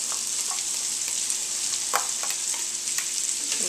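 Onions and red peppers frying over medium heat in rendered pancetta fat, giving a steady close sizzle and crackle with scattered pops and spits throughout, no voices.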